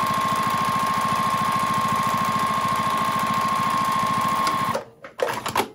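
Sewing machine running a steady fast stitch along the edge of a fabric coffee cozy, a loud even mechanical whir with rapid rhythmic pulsing, stopping abruptly near the end followed by a few handling clunks.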